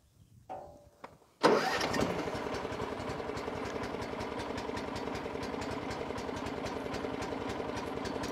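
A vehicle engine is started after a few quiet clicks. It cranks briefly, catches, and settles into a steady, rhythmic idle, close and moderately loud.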